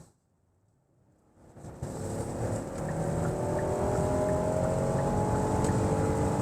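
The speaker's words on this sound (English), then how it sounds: "We're going to get up to speed here in just 1 second" A V6-powered car accelerates from quiet up to cruising speed, its engine and road noise swelling after a near-silent start, then holding a steady drone.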